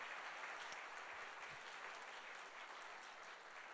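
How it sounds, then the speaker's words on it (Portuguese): A church congregation applauds during a Sunday service, a steady wash of many hands clapping at an even level throughout, with no voices standing out. "Queria que a igreja desse uma salva de palmas a vocês"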